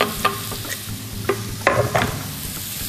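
Chopped onion sauteing in oil in a pan, heard up close as a light sizzle with several sharp stirring clacks and scrapes of a utensil.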